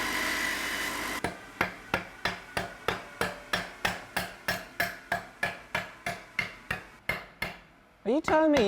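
A wooden bat hammering on sharpened saw teeth to set them, about fifteen sharp, evenly spaced knocks with ringing decay, close and distinct, followed by a brief voice.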